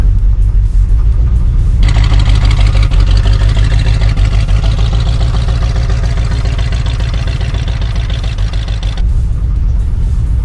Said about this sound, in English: let's go take it for a test drive now